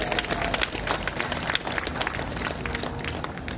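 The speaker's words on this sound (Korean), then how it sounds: "감사드릴 마음으로 한번 박수를 보내십시다" An audience at a formal ceremony with speeches claps together, a dense, lively burst of applause sustained at a steady level throughout.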